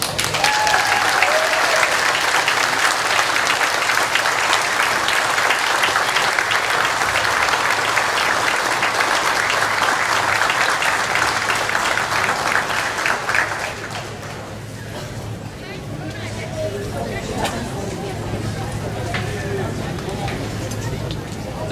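Festival crowd applauding Governor Evers at the Hmong Wausau Festival, loud sustained clapping and cheering that drops suddenly to a softer murmur of crowd noise and scattered claps.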